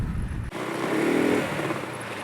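A Volta Revolt RS7 125cc scooter engine runs at a steady, even pitch after an abrupt shift from a rougher rumble, heard close with some wind noise.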